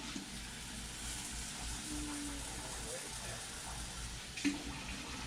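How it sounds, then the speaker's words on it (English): Tap water running steadily into a bowl of rice grains being rinsed in a home kitchen, a constant close splashing hiss with a brief clatter near the end. "you can just rinse the grains off in there until the water comes out clear"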